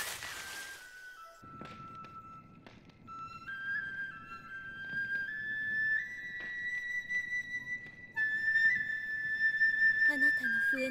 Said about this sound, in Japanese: あなたの笛の音はいつも悲しいのですね。